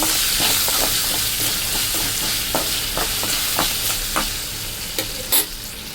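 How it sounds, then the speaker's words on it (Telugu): Salt and coriander are mixed into a hot lemon rice tempering in a pan with the stove just switched off. A steady sizzle sits under repeated scraping spatula strokes, ending with one louder knock. "సాల్టు, అలాగే కొత్తిమీర ఇవన్నీ వేసుకొని బాగా కలుపుకోవాలి."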